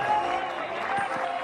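Applause from the crowd at a Caribbean Baseball Series game between Mexico and Panama, a steady wash of clapping and crowd noise heard briefly, with no individual claps standing out.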